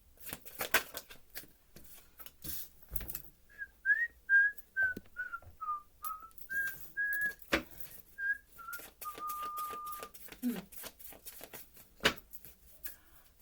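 A person whistles a slow tune of short and held notes, fairly faint and close, with shuffling and rustling noises around it and no talk.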